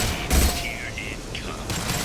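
Gunfire in the video game Mass Effect 2 during a fight in an industrial area near a fuel tank. It comes as a short, loud burst of shots, then another burst near the end, with sustained game noise underneath.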